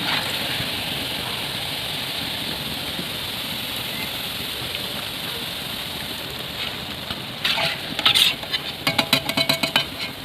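Palm fruit fritters frying in a pan of oil give a steady, dense sizzle throughout, with a few sharper clinks and stirring sounds near the end.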